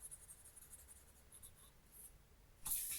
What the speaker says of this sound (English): The paper is great to color on.